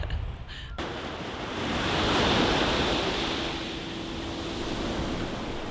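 Ocean surf rolls steadily along the Gangneung coast, a broad continuous wash of waves that swells and eases, with wind noise buffeting the microphone and a brief faint sound before the surf takes over.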